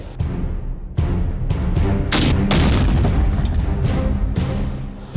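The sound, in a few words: rocket launcher firing and explosion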